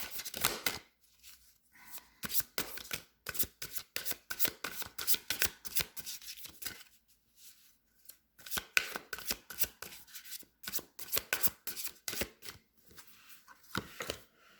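Tarot cards are shuffled and drawn with a steady run of soft, quick riffling and flicking at close range. The sound is fairly quiet, with brief pauses between bursts.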